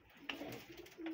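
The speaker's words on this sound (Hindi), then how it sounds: "ये कौन सा कबूतर पकड़ा हुआ है आपने? सर ये टाइगर ब्रीड है।" A tiger-breed pigeon held on a rooftop gives a short, soft coo, with a brief murmur of low notes heard close and alone.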